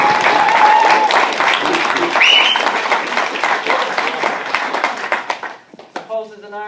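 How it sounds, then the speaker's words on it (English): Wedding guests give a hearty round of applause during the father of the bride's speech, loud and close, mixed with cheers and chatter before tapering off as a voice resumes talking. "round of applause."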